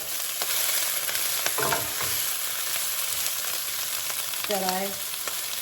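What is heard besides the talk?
sauteing collard greens and bean sprouts for egg rolls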